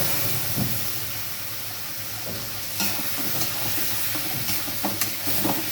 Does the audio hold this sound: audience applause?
no